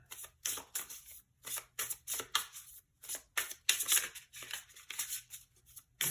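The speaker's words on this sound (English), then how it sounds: "I'm shuffling all the cards on camera today." Tarot cards being shuffled by hand, a rapid series of crisp riffling and flicking bursts in quick rhythm, close and fairly quiet with no talking.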